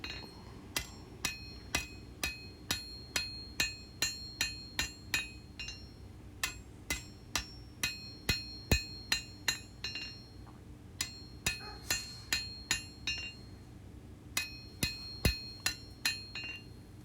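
A smith's hammer strikes a hot steel knife blade on an anvil while forging a full-tang blade with an integral bolster, steady ringing blows in quick bursts with short pauses between, clear and close.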